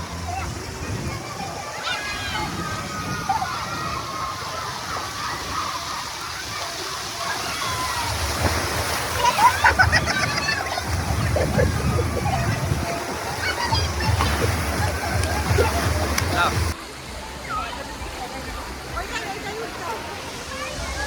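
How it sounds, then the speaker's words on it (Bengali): Continuous wash of water splashing and sloshing as waves roll through a wave pool at Nicco Park amusement park in Kolkata, with people talking and shouting over it throughout. "এই দেখো সমুদ্রের মতন ঢেউ আসছে"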